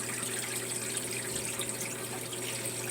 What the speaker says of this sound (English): We are now entering the final spin.